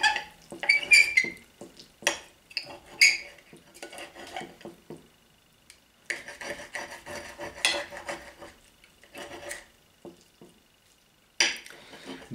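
Knife and fork cutting a cheese-topped steak on a plate, giving intermittent clinks and scrapes in short bursts separated by quiet pauses, close and moderately loud.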